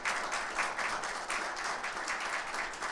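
An audience claps steadily in a welcoming round of applause for a candidate for the GDF government at a FENASP hearing, a dense, even patter of many hands.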